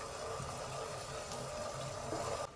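Egg batter for Kannur-style mutta mala is poured into boiling sugar syrup, making a soft, continuous bubbling and trickling that stays faint throughout.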